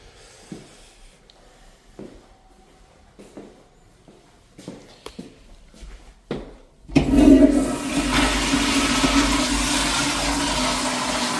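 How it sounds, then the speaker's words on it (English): A toilet is flushed during a leak test after a clog was cleared through the P-trap. A few faint knocks come first, then a loud, rushing flush surges in and keeps pouring steadily until the end. "let's do a couple more flushes and then we'll pull that sucker back."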